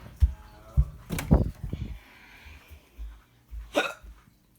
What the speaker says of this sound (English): Sorry, I got the hiccup.